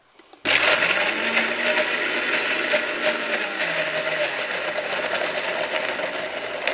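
A blender runs loud and steady, whirring continuously as macadamia nuts are blended into a vegan nacho cheese, the motor pitch shifting slightly as the mixture thickens.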